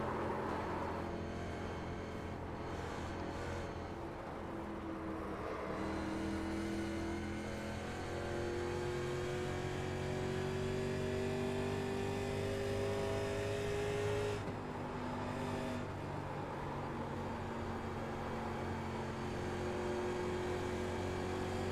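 A race car engine in a racing sim revs and shifts steadily, its pitch climbing and dropping through gears as it holds a loud, continuous drone with no talking.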